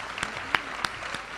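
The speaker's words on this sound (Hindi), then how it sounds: "कविता समाप्त हो गई है, तालियां बजाइए" After a Hindi poem recital, an audience gives brief, sparse applause, with a few separate claps standing out over a faint background wash.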